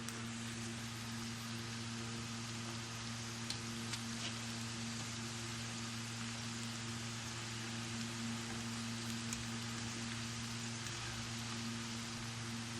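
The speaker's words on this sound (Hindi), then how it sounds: "इतनी फ्राई नहीं करनी, बस थोड़ी देर के लिए हमने फ्राई करनी है। फ्लेम आपने बिल्कुल तेज़ रखना है।" Okra (bhindi) frying in a pan over a high flame gives a steady, dense sizzle like rain, constant throughout with a low hum underneath and no voices.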